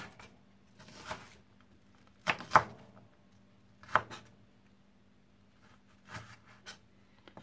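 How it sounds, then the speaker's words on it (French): A knife chopping onion on a cutting board for stuffed aubergines, a few soft scattered cuts with pauses between them, quiet and close, with no talking. "Je vais couper l'oignon pour hacher."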